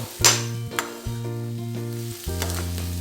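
Green peas for matar pulao being stir-fried in a pan: a steady close sizzle with sharp scrapes of a spoon against the metal at intervals, loud and with no talking.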